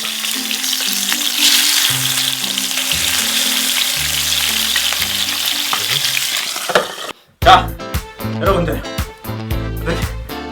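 Floured rockfish sizzles and crackles steadily in hot oil in a pan, with a busier burst of spattering and clatter toward the end.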